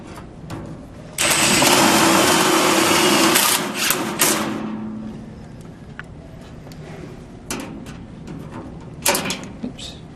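A Phillips driver runs self-tapping screws in while fitting a Meridian lateral front conversion, giving a loud, continuous high whir for a few seconds, then quieter short bursts of driving near the end.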